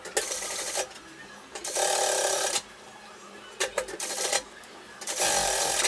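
A sewing machine stitches the fabric of a child's pleated coat in several bursts of rapid mechanical whirring, each lasting about a second, separated by short pauses, close and clear.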